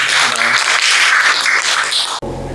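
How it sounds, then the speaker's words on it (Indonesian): Classroom of students clapping for Mbak Jenny during a lesson, a loud dense burst of applause that cuts off abruptly near the end. "Terima kasih, tepuk tangan untuk Mbak Jenny"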